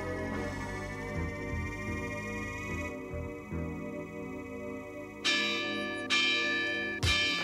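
Church bell tolling in a children's fantasy show about a young witch, sounding over a steady musical score with several loud, sharp strikes near the end that ring and decay.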